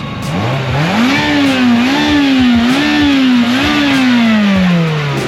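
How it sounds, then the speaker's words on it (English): A Ferrari F355 engine revs hard at a Castle Combe Circuit action day, a loud, continuous howl whose pitch rises, wavers through repeated blips and climbs, then slowly drops, close and alone without talk. "Not many people get to hear a Ferrari F355 revving its heart out."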